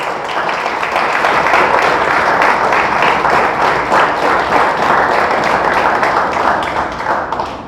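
A church congregation claps loudly and energetically in praise during a sermon on the resurrection, a dense continuous roar of many hands that tapers slightly at the end.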